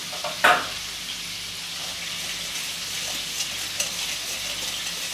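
A spoon stirs a BBQ fried chicken sauce made with real molasses from a sugar factory, one sharp scrape near the start and a few soft clicks over a steady, close hiss.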